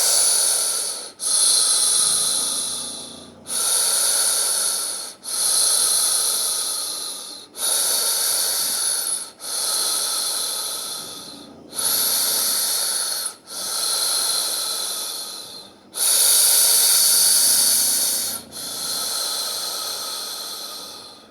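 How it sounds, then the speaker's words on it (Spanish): Loud, close breaths in a continuous circular breathing exercise, with about ten long noisy inhale-exhale cycles flowing one into the next with almost no pause between them. "voy a hacer solo 5, haciendo ruido para que capten la circularidad de la respiración"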